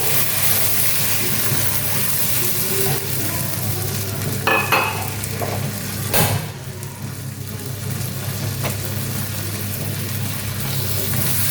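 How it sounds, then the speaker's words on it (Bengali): Blended mustard paste goes into hot oil in a pan for Bengali shorshe ilish, giving a steady sizzle with stirring scrapes and a brief louder splutter near the middle. "এবার আমি যে সরিষাটা ব্লেন্ড করেছিলাম সেটাই এখন দিয়ে দিব"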